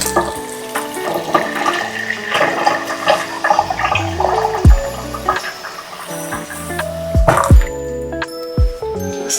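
Hot water poured for yeast when making bread rolls, heard as close splashing, trickling and dripping liquid with small clinks of kitchenware, fairly loud and continuous, no talk.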